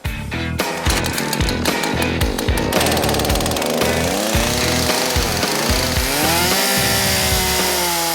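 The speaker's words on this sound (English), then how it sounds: "Any miscalculation with the chainsaw, and Ryan could send the tree tumbling into the cabin." A chainsaw roars up close while felling a tree beside a cabin, revving in choppy bursts and then settling into a steady cutting whine as the blade bites into the wood.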